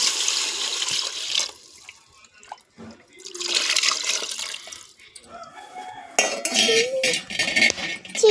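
Tamarind juice poured into a fish curry pot on a wood-fire stove: rushing, splashing liquid in a few separate bursts, loud and close, with clinks of pans between pours.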